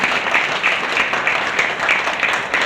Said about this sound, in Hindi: सब लोग ताली तो बजाएं अशोक जी के लिए